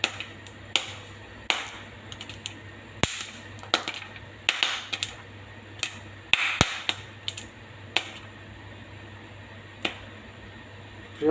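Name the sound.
popcorn popping in a pan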